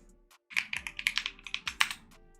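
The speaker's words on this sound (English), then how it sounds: "I'm typing." Typing on a computer keyboard, a quick run of about a dozen crisp key clicks in an uneven rhythm, close and clear with no voices.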